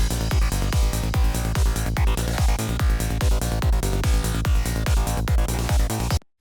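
A psytrance FM synthesis patch built in Ableton drives over a pounding kick in a fast, steady pulse, with a dense, buzzing timbre that plays loud throughout and then cuts off abruptly.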